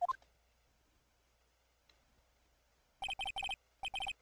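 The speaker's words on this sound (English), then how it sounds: "I got random freaking notifications" Video game phone notification chimes: two short clusters of bright, rapid electronic beeps, the first of four quick bursts and the second of three, near and clear against near silence.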